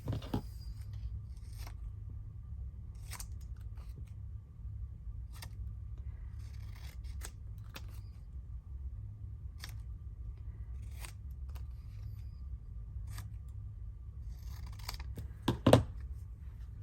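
Scissors snip through scrapbook paper in a quiet room, giving sparse, light cuts spaced a second or two apart over a low steady hum, with one sharper, louder snip near the end.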